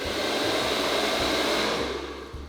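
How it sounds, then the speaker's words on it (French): A hair dryer runs steadily up close, a loud constant blowing whoosh with a low motor hum beneath, easing slightly near the end; no one speaks. "C'est un vrai sèche-cheveux en fait."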